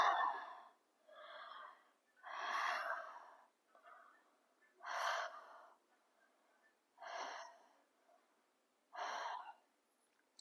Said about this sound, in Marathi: इनहेल करून एक्सेल, तोंडानी श्वास सोडायचा